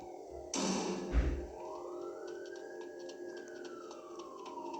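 A faint video game police siren tone slowly rises and then falls once, after a short burst of noise and a thud, with a low hum underneath.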